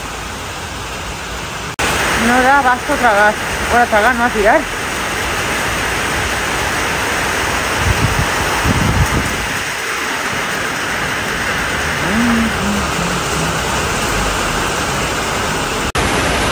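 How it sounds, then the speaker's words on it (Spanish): Steady rain falls outdoors, a dense continuous hiss running the whole way through, while people chat nearby over it. "No me digas que no es relajante de llover."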